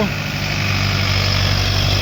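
A tractor engine runs close by, a loud, steady low rumble with a rapid pulsing throb, holding constant for the short stretch, with voices faintly mixed in.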